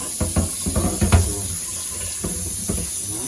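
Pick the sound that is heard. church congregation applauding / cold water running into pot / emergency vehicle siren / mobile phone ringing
cold water running into pot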